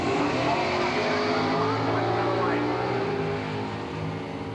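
Big-block drag racing car at Englishtown, a loud sustained engine roar running close and steady, fading slightly toward the end, with a track announcer's voice partly mixed in.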